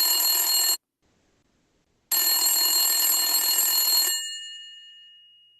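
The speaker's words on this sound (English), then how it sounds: "He's not answering this phone." A telephone bell rings loudly in two long bursts separated by a pause, the second ending with a ringing decay.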